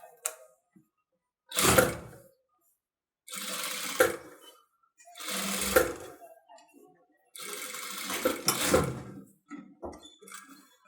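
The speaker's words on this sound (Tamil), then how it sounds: "அந்த ரவுண்டை கனெக்ட் பண்ணி அந்த ஓரத்தில் எஜ்ஜி தையல் போட்டுட்டே வாங்க." A sewing machine runs an edge seam on blouse lining fabric in four close, whirring bursts of stitching, each lasting a second or so, separated by quiet pauses.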